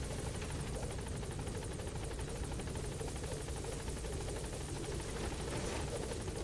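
A video-game helicopter drones on continuously with a steady, rapid rotor chop and engine hum at an even level throughout.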